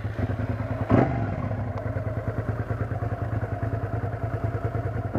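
Motorcycle exhaust with baffles fitted, from a Honda Nighthawk or SV50 on a twisty road, a steady low engine drone with a brief thump near the start, moderately loud and without talk.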